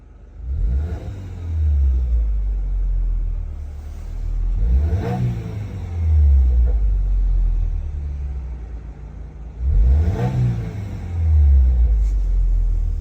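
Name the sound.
2022 Subaru WRX with Rae Motorsports intermediate pipe revving, heard inside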